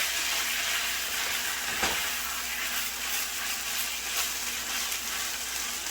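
A tater tot casserole mixture with broccoli is stirred in a pan, a steady hiss and sizzle running throughout with one short scrape partway through.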